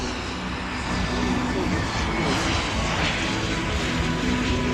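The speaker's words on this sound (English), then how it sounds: "Now, this is a remote control aircraft." A remote control aircraft flying, heard as a continuous, fairly loud broadband engine roar without clear breaks, set against dense background noise.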